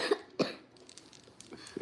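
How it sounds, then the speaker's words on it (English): A baby coughs close to the microphone in a few short bursts, one near the start and another soon after, then faint fainter coughs and stirring in a quiet room. "He's just like coughing right in my face."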